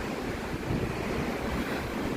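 Strong wind roars over ocean waves crashing on an island shore in Ireland, a loud, continuous wash of surf and gusting wind buffeting the microphone, with no voices.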